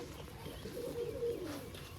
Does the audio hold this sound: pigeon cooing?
yes